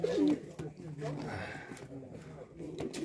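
Low pigeon coos murmur nearby at a pigeon market in Malbork, Poland, overlapping with someone talking.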